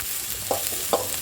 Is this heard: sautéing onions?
yes